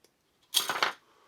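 3D printer filament being snipped through with cutters, a single short crisp snap followed by a brief metallic clatter, close up and alone.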